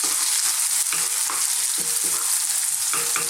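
Onions frying in hot oil for an Indian minced beef and potato dish, a loud continuous sizzle broken by several stirring scrapes and clatters close by, with no voices.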